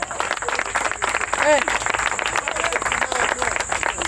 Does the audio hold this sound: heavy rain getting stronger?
no